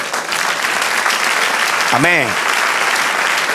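A church congregation claps steadily and loudly throughout, and one voice briefly calls out over the applause.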